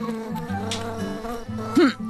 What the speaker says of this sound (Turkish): Sanki vızıltıları duyar gibiyim.